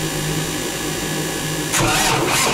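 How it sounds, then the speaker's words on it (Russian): On a Princess 50 motor yacht whose engines have not been run for a long time, a steady mechanical hum gives way to a louder, rougher burst as an engine starts near the end, with no talking. "Да, моторы давно не запускали"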